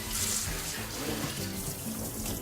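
Kale leaves are rinsed under running tap water, a steady close hiss and splatter of flowing water into a sink with no talking.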